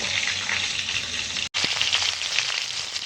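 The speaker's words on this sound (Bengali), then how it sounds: "এখন ফুলকপি চাপিয়ে দিয়েছি ফুলকপিটা একটু ভেজে নেব" Continuous loud sizzle of cauliflower frying in a pan, close by, with a brief cut midway and faint crackles throughout.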